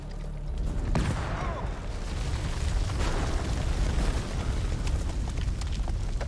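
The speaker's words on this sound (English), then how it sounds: "Grenade! Grenade!" A grenade explodes in a video game firefight with a deep, sustained boom and roaring rumble, loud and close, with sharp cracks and debris bursting through it.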